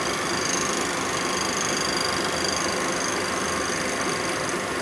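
Machining a 1990s Harley-Davidson Evo Sportster 90ci big-bore motor case on a machine tool: a steady, loud, continuous mechanical whir and hum with a constant tone throughout, no talk.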